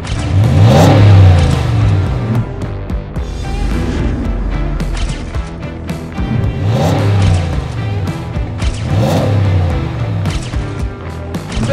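A 2021 Ram 1500 pickup's engine revs in repeated loud surges, roughly every few seconds, each climbing and falling away over a steady idle, with no talk.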